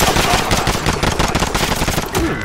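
Rapid gunfire from Call of Duty: Modern Warfare, dense automatic bursts and overlapping shots rattling loudly and continuously for a couple of seconds with no talk over them.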